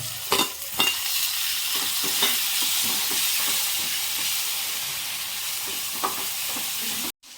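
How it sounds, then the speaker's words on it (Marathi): Masala being stirred and fried in a pan for egg curry, with a steady loud sizzle and hiss throughout and a few sharp scraping knocks of the spoon, cut off abruptly near the end. "मसाला फिरवते आणि"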